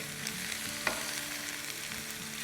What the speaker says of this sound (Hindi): आधा टीस्पून काली मिर्चों का पाउडर डाल देंगे। बस 1 मिनट इससे हम सौटे करेंगे।